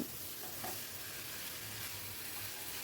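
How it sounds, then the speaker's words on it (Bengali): Fried potato and pumpkin being stirred into a spice mixture over a medium to high gas flame, a continuous sizzle with a steady hiss and faint scraping throughout. "এই অবস্থায় আমি দিয়ে দেবো ভেজে রাখা আলু আর মিষ্টি কুমড়োটা, দিয়ে আবারও সব কিছু ভালো করে মিশিয়ে নিচ্ছি।"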